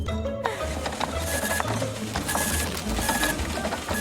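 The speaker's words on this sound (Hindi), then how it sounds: "ओह नहीं, अभी भी प्रिंट हो रहा है।" A printer is printing, giving a steady, loud mechanical whirr and rattle. The sound runs continuously for several seconds with slight surges and no break.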